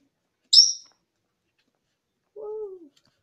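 Two separate bird calls break a quiet room: first a short, sharp high chirp, then after a pause a lower, drawn-out call that slides downward.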